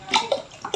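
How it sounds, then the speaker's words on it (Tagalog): Water is poured into a pot of rice being cooked at home, making a close, splashing gurgle in a few uneven surges over a short moment. "Pero yung tubig kulang. So, dadagdagan ko na."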